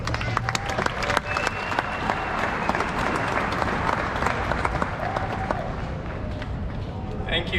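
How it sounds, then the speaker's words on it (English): Large crowd applauding at Wrigley Field in Chicago after a national anthem at a naturalization ceremony, steady dense clapping and cheering filling the whole stretch, with crowd noise throughout. "How about another round of applause for Kate Kelly and that national anthem?"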